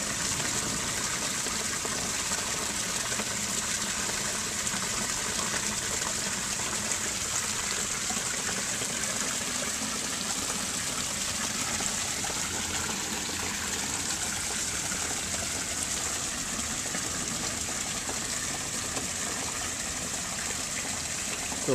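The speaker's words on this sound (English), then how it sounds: "We have blue lit the waterfall." Blue-lit backyard pond waterfall at night, a steady continuous splash and gush of falling water, close and even throughout with no voices.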